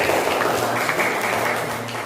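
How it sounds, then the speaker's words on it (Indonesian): A classroom group claps together in a steady patter of applause for a couple of seconds, moderately loud. "Tepuk tangan untuk semuanya."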